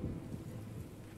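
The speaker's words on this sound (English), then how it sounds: "Then it began to rain." Heavy rain pours alongside rolling thunder during the Battle of Waterloo in the Napoleon Total War video game, a dense, continuous downpour with deep low rumbles throughout.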